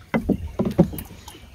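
A rowboat moving on water, oars splashing in a few uneven close strokes, followed by a quieter stretch with faint wind.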